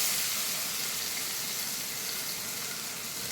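Onions fry in a pan with a soft, steady, even hiss that holds for a few seconds and has no voices over it.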